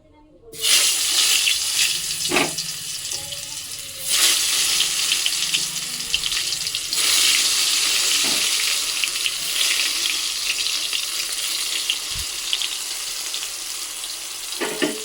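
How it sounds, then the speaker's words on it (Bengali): Eggplant slices frying in hot oil in a pan, a steady broadband sizzle running nearly throughout, loud and close, with a few brief clinks and shifts as slices are added. "এবার বেগুনগুলো আস্তে আস্তে দিয়ে দেবো"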